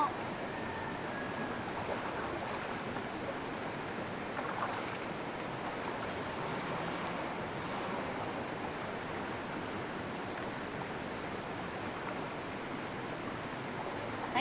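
River water flows steadily where dishes and laundry are washed, a dense, continuous rushing wash that holds at an even level throughout with no voices.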